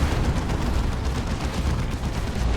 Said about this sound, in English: Las Cannon continues to get shots on the Great Unclean One.